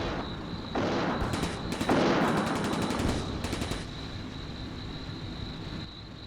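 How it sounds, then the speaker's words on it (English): Machine gun fire in the wartime strategy game Combat Mission: Barbarossa to Berlin, rapid bursts of automatic shots over a steady battle rumble, loudest in the middle seconds and fading afterward, no talk. "a lot of machine gun fire."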